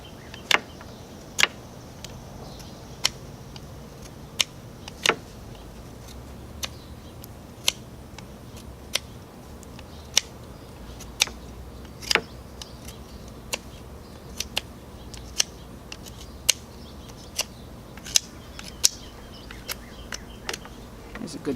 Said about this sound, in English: And just kind of whittle the ends